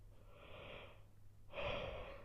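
A person yawning twice, with a drawn-out breathy exhale that fades at about one second, then a second louder, rougher yawn that rises and holds; close and alone with no talk.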